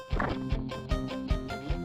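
A cupboard being smashed in the video game Death Road to Canada, heard as repeated sharp thwacking impacts, about four in under two seconds, set over a steady looping game music bed.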